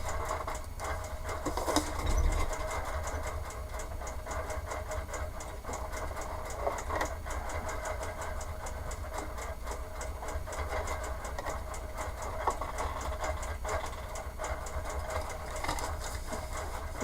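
Sewing machine stitching a foundation paper pieced pumpkin block, a steady close mechanical whir with rapid ticking needle strokes running almost without pause throughout, no talking.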